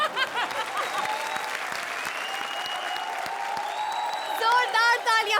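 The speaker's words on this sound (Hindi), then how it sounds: "जोरदार तालियां हमारे चैलेंजर्स के लिए" An audience claps loudly and continuously on a TV show set, the steady wash of applause swelling near the end while a few voices call out over it.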